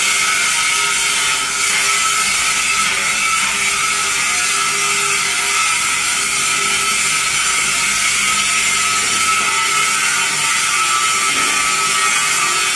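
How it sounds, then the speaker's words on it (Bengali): A batasa sugar candy making machine runs in a workshop with a loud, continuous mechanical whir and rattle that holds steady throughout without pause. "ওদিকে আমাদের বাটাসা মেশিনের কাজ শুরু হয়ে যাচ্ছে।"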